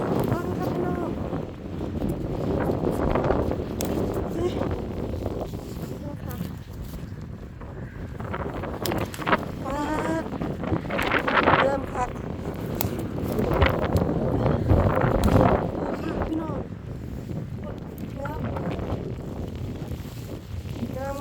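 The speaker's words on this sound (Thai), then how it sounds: "ทั้งฝนทั้งลมค่ะพี่น้อง" Gusty wind buffets the microphone with rain pattering on a kale field, while someone talks over it throughout.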